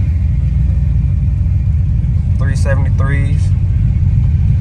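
An 88 Monte Carlo with an LS swap and 3.73 gears cruises on the street, a loud, steady low engine rumble that continues under a brief spoken remark.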